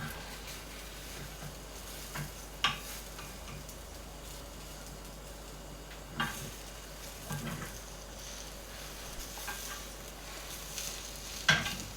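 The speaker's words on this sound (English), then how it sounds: "Scramble the egg mixture, roll it over, and push it to the edge of the pan again." Egg mixture sizzling softly in a frying pan as it is rolled and pushed to the edge, a steady faint crackle with a few light clicks and scrapes of a utensil against the pan.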